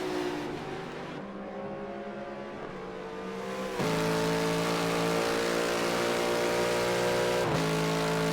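Race cars at Monza in a racing video game, tonal engine whine building as cars sweep past, with a sharp jump in loudness midway and another quick pass near the end.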